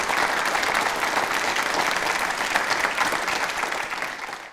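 An audience claps for a yoga guru, loud dense applause from a crowd that holds steady and then starts to fade near the end.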